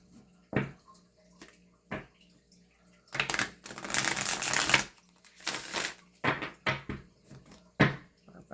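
Tarot card decks shuffled close by, with scattered taps and slides building into a long, dense riffling burst, then a shorter one and a few more card snaps.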